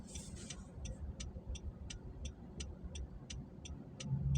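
Inside a Grab Car Premium while driving, a low engine and road rumble runs underneath, along with a steady, regular ticking like a turn signal clicking repeatedly throughout. Nobody speaks.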